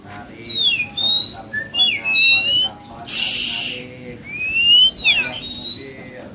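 An oriental magpie-robin (kacer) at a bird kiosk sings loud, varied whistled phrases in rapid bursts with sweeping rising and falling notes, with people talking nearby.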